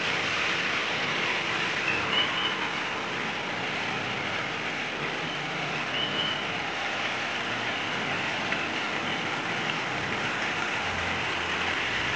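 Steady rain falls in a continuous, even hiss with no pauses, an outdoor wash of drizzle and no voices.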